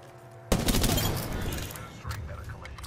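Video game gunfire erupts suddenly after a brief quiet moment: a loud, rapid burst of shots that keeps crackling for the next couple of seconds with no break.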